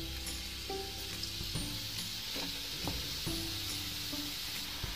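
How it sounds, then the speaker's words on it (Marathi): Grated beetroot sizzles in ghee in a kadhai, a low steady frying hiss under occasional light spoon taps and scrapes against the pan, close and quiet, with no voices. "आता आपण खिसलेले बीट टाकूया तुपामध्ये।"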